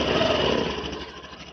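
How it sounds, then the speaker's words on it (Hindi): A 2025 Honda Activa 125 scooter starts quietly and settles into idle, giving a steady, close engine hum that eases off slightly toward the end. "अब देखिए मैंने इग्निशन ऑन किया, तो इग्निशन ऑन करते ही फिर मैंने स्टार्ट किया।"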